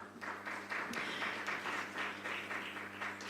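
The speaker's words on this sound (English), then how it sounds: "Let's give Nayetha and the whole panel another round of applause" A conference audience in Dubai gives a panel a round of applause, the clapping rising and falling in pulses over a low steady hum, moderately distant.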